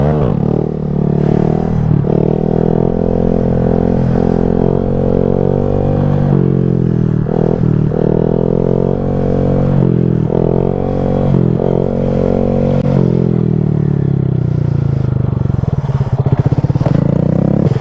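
A Honda Grom 125cc motorcycle held at a steady drone while ridden one-handed, its engine tone rising and dipping through the whole stretch, loud and close with no talk.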